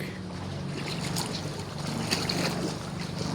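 Strong wind buffeting a boat heading to Kayangan Lake in Coron, a constant roaring rush of air over a low engine drone and water sounds, loud and unbroken.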